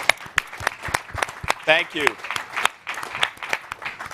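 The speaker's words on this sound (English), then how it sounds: "I think you deserve a round of applause" Audience applause at an evening public radio event, a brisk patter of clapping from the crowd continuing while people speak over it, with a brief thank-you heard.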